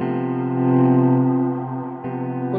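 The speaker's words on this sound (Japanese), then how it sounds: "まあ、リバーブだな。" Electric guitar played through a Quartarone Reveries pedal with the reverb effect turned fully up, a sustained chord ringing with a wide wash of tail, a second strum near the end, steady and fairly loud with no talk.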